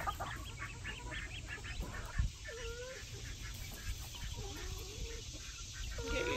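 Ducks quacking and chattering in a noisy outdoor pen, several overlapping calls near and far over a steady hiss and rumble.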